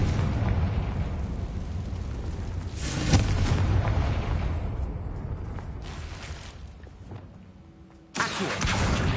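A Confringo blasting spell bursts in the video game Hogwarts Legacy: a loud, dense booming rush that swells around three seconds in, rumbles on, then fades before a second sharp blast hits near the end.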